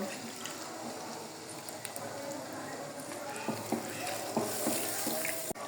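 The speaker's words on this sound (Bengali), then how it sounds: "অল্প করে পানি দিয়ে দিব" A little water is poured into a pot of browned duck curry, giving a soft, quiet splashing and sizzling with a few light clinks near the end.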